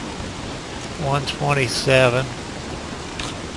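Steady rain hiss from the video game Don't Starve, continuous and even throughout, with someone speaking briefly over it in the middle.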